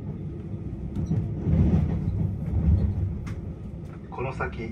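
Interior rumble of the JR Hokkaido limited express Kamui 47 arriving late at Asahikawa, a steady low drone that swells and eases, with brief chime-like tones near the end.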